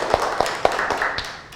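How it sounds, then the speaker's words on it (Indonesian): A classroom gives brief applause for a student: a few separate, fairly close claps that thin out and fade within about a second and a half. "Berikan tepuk tangan untuk teman kalian."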